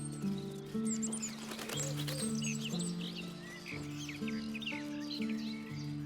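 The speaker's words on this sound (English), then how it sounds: "I see birds." Birds chirp and tweet in Baldur's Gate 3, quick high calls scattered over a steady droning game score, fairly faint and continuous.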